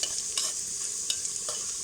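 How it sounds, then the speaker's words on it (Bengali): Garlic fries in hot mustard oil for a dal tempering, giving a bright, even sizzle with a few soft stirring clicks scattered through, close up and without talk. "ফোড়নে এখানে আমি সরিষার তেল আর রসুন দিয়ে দিয়েছিলাম"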